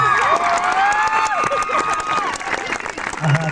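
A graduation crowd applauds loudly, with dense clapping and some cheering throughout, while voices call out over it.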